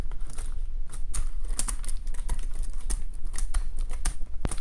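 Plastic keyboard of a ThinkPad T430 laptop being pressed and pushed into its seat during reassembly, a run of sharp, irregular clicks and taps up close, with no talking.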